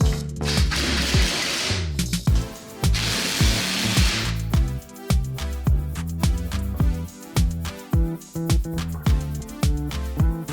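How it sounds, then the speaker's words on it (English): A power tool drives fasteners through desk brackets into wooden wall studs, heard as bursts of whirring and grinding that give way to a rapid run of sharp knocks and taps. "I could bolt them right into the studs"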